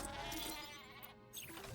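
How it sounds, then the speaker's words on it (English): Sheep bleating from the Sheepinator weapon in the 2016 Ratchet & Clank game, heard as a fairly loud, steady bleat within dense game sound and music. "Oh, that's what the sheep sound I heard earlier was."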